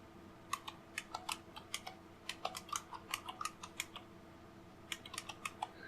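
Quiet clicks of typing on a computer keyboard during a Linux install, coming in short irregular bursts of keystrokes with a pause midway, close and faint against a soft background hum.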